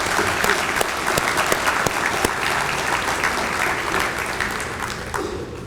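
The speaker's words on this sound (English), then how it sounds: "Let's give them a round of applause." An audience at an athletics hall of fame awards ceremony applauds steadily, dense clapping filling the room at an even level for several seconds with no one speaking over it.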